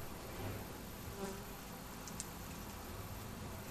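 A soft, steady buzz of honey bees from a small, calm colony hums faintly in the background, with a couple of brief closer wingbeat sounds passing by.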